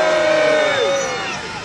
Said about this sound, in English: Can I hear the biggest, the loudest cheer for the Warwick Castle Trebuchet?